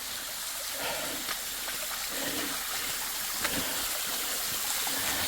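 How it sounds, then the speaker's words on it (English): A waterfall in a hiking canyon gives a steady, fairly faint rushing hiss of falling water, continuous and even with no voices. "Oh yeah, I got a waterfall up here."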